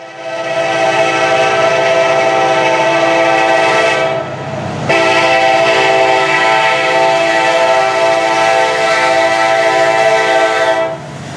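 An EMD diesel locomotive horn blasts loud and close in a sustained multi-tone chord, breaking briefly partway through before sounding again and then cutting off.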